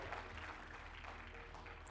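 A church congregation claps hands together in a steady, dense patter that fills the room evenly at moderate volume, with no distinct voices standing out.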